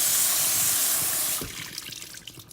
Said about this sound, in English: I'm taking both of the cans of navy beans and just putting them in a colander to strain them